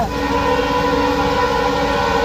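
A train rumbles steadily past at close range, a constant loud roar with a sustained horn-like tone running through it.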